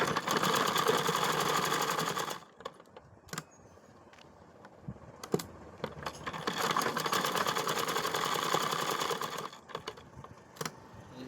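A sewing machine stitches a pocket onto a tailored garment, whirring in two long, steady runs with a quieter stretch of clicks and handling noise between them.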